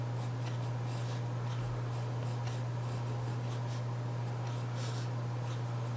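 Pencil sketching on watercolor paper, a soft continuous scratching with short strokes repeating close up over a steady low electrical hum.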